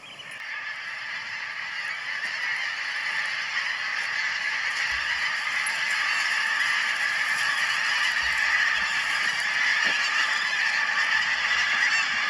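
A large flock of pink-footed geese honking overhead on the East Lothian coast, a dense, continuous chorus of many overlapping calls, steady and fairly loud throughout.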